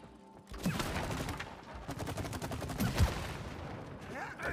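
Rapid bursts of gunfire clatter through a co-op adventure game, It Takes Two, with dense cartoonish shots and a few sharp impacts layered over busy game sound, fairly close and loud.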